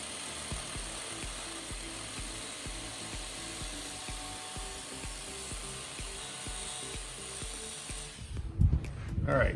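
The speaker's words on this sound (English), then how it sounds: "So we've got a little bracket that I have to cut off here." A power tool grinds steadily through a metal bracket on a fence-jacking tool, a constant whining buzz with rhythmic pulses for several seconds, ending in a brief clatter.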